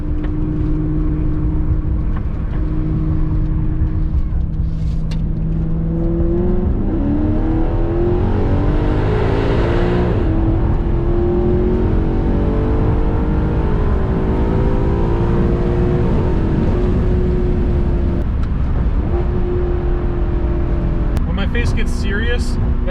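A Maserati GranTurismo MC engine pulls hard up an on-ramp, rising through the revs with a gear change midway before climbing again, loud and close from inside the cabin, with a voice briefly heard.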